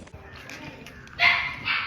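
A dog at a grandmother's rural house gives a couple of short, sharp barks after a quiet stretch, fairly close and moderately loud, with faint background sounds and no talking.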